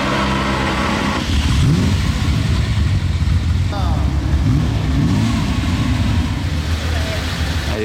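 A Ferrari F8 sports car engine in Monaco, a steady mid-pitched drone with rising and falling rev sweeps, fairly loud throughout, mixed with street noise.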